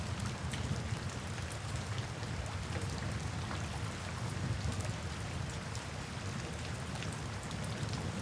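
Steady rain falls continuously, a dense even hiss of drops on surfaces with a low rumbling undertone, constant in loudness throughout with no voices.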